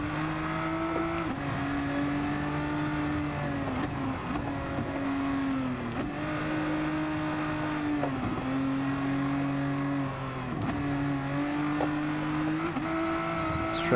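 Race car engine in Gran Turismo Sport, a GR3-class car on a slow, narrow track, holding a steady loud drone with brief dips and re-revs through corners across the whole stretch.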